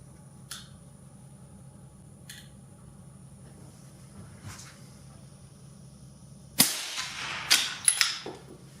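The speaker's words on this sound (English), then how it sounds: "So let me shoot a 3-shot group and then we'll go in and change the barrel." Three sharp rifle shots from a Terminus action rifle ring out in quick succession at a shooting range, loud and close, each with a brief crack and short decay after a stretch of quiet with faint clicks.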